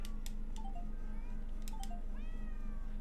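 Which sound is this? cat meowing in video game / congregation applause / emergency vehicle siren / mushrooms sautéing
cat meowing in video game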